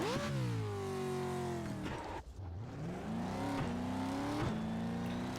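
Off-road truck engine in the iRacing sim, revving continuously with rising and falling pitch through gear changes, loud and close throughout, with one brief dip near the middle.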